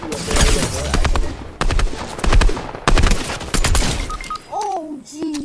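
Rapid, dense gunfire in a video game, with bursts of shots running almost continuously and loudly for several seconds before easing into faint noises at the end.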